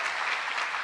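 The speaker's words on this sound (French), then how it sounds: "Encore une fois, un tonnerre d'applaudissements pour Magic Madman" A short burst of dense applause from a crowd, steady and sustained with no voices over it.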